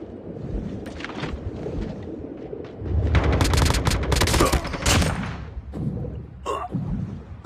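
Rapid bursts of automatic gunfire in a Call of Duty Mobile battle royale match, loud crackling volleys that build in the middle and then taper off, with wind-like rushing noise underneath.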